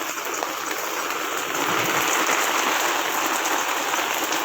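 Heavy rain pours steadily, heard from a third-floor rooftop, a dense continuous hiss of drops on surfaces with no voices and an even, loud level throughout.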